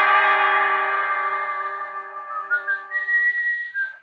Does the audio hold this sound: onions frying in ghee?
no